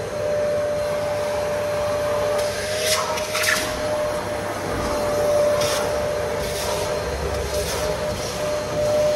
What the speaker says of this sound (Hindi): अभी ये लोग वैक्यूम क्लीनर से साफ कर रहे हैं गाड़ी को, अंदर से सारा धूल वूल निकाल रहे हैं।